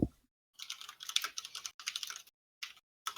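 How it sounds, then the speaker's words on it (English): Mechanical keyboard typing in quick clacking bursts separated by short silences, close and fairly quiet, with no talk over it. "Sorry, mechanical keyboard. It's a nice mechanical keyboard."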